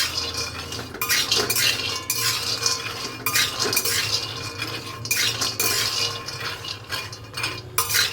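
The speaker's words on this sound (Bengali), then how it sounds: "এরকমভাবে নাড়তে হবে।" A utensil scrapes and clinks against a pan while food is stirred, in repeated irregular strokes that are close and fairly loud, with a low steady hum underneath and no talking.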